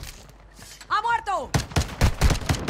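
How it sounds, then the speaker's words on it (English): Rapid gunfire bursts crack out in Warzone 2, several quick volleys in the second half following a brief voice, loud and close over the game's background. "Taking effective fire!"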